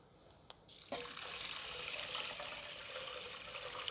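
Water poured into a container to soak ingredients overnight, a faint click followed by a steady, close, quiet stream of pouring liquid that continues throughout.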